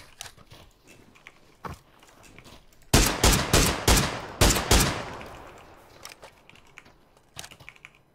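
Gunfire in the PUBG video game aimed at a car's tires: a quick run of five or six loud, sharp shots in close succession, with fainter clicks and taps before and after.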